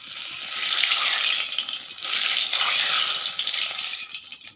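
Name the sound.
fish heads frying in hot oil in a wok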